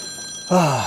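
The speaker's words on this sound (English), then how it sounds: "Mobile phone, always ruining my videos." A mobile phone starts ringing halfway through, its bright, loud ringtone cutting in abruptly over a quiet room with a steady faint electronic tone.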